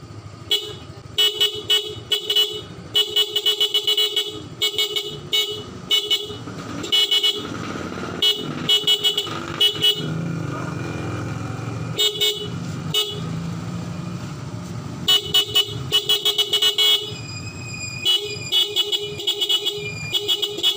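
A Bosch compact disc horn fitted to a motorcycle sounds in repeated loud, close blasts, short toots and longer held honks in irregular bursts, with a brief pause midway.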